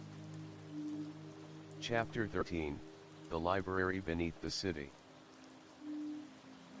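Steady rain falling on rooftops as a story sound effect, a soft continuous hiss beneath a narrator's voice reading a chapter heading, with the patter carrying on alone before and after the speech.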